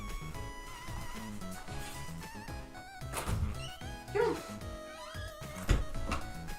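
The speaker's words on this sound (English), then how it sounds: "Sorry, you can hear my dog." Pet dog barking and whimpering nearby: a few short yips and a thin whine over a busy background with occasional thumps.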